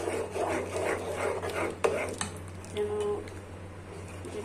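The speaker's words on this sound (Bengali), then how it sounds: "আমি ডিমটা দিয়ে দেবো এটার মধ্যে তারপর নেড়ে দেবো" Egg being stirred into Thai soup in a pot at home, giving a soft scraping and rubbing with faint clinks, over a steady low hum from the stove.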